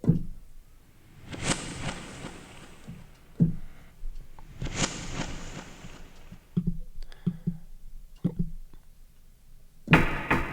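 A wooden roll-top desk lid closes with two heavy rolling clatters a few seconds apart in a reverberant church, each ending in a thud and leaving a long echoing tail, then scattered knocks and a sharp final bang.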